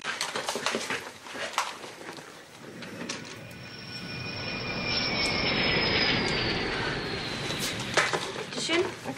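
An airplane coming in to land: a steady, loud engine roar with a whining tone that swells and slowly fades over several seconds, with faint talk at the start.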